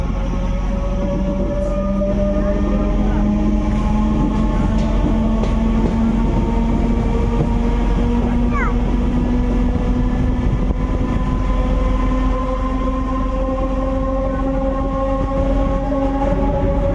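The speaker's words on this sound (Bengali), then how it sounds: "এইখান থেকে ট্রেন চেঞ্জ করে সোজা মেমু লোকাল ধরে যাচ্ছি সোজা পাথরসাহেব।" A MEMU local train runs on the Bankura to Masagram line, a steady loud rumble of wheels and carriages with a sustained rising motor whine throughout, heard from on board.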